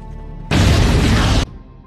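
A helicopter blown up in an action film goes off in one loud, close blast with a broadband roar that holds for about a second, then cuts off into low background.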